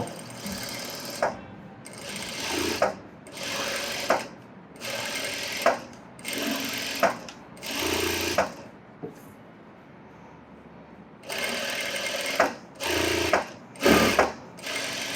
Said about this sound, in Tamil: இப்போ இந்த லைனிங் பீஸை மட்டும் எடுத்துகிட்டு ஓரத்தில் எஜ்ஜு தெளி போடுறோம்